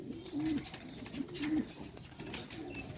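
Young rooftop-bred pigeons coo softly, giving two or three low, rolling calls close by against a quiet background.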